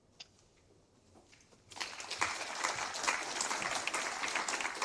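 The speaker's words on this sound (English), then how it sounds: "that was a round of applause" After a quiet moment with a few faint sounds, an audience at a net zero conference breaks into a sustained round of applause, dense and steady clapping that keeps going to the end.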